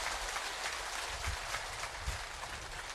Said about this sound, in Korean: 또 큰 박수 한 번 부탁드립니다